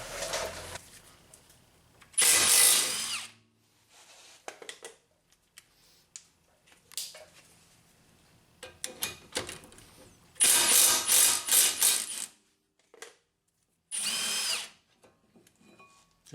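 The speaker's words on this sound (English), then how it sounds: "now we're going to use a 17mm socket, and we'll get the two caliper mounting bolts" Power tool removing the two brake caliper mounting bolts on a 2004 Honda Accord front brake, using a 17mm socket: loud whirring bursts, one around 2 seconds and two more later, separated by quieter clinks and handling noises, no talking.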